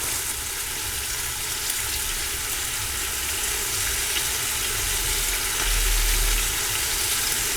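Meat coated in adobo with diced green chilies and cumin sizzles and browns in a pot for chili verde, a dense, continuous frying hiss at close range with a brief low rumble near the end.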